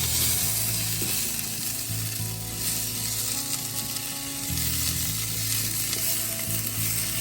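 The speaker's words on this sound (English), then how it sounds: "when I cook potatoes on the stove" Potatoes browning in a pan on a stovetop give a loud, continuous close sizzle and crackle, with low rumbling hums from the kitchen beneath.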